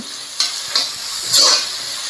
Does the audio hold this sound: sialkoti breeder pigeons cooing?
no